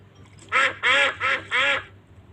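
Cartoon ducks in a Peppa Pig game give four bright, evenly spaced quacks in quick succession, close and clear over a quiet background.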